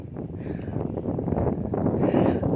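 Wind buffets a microphone from a vehicle moving at speed, a steady broadband rumble that builds and grows louder toward the end, with no voices over it.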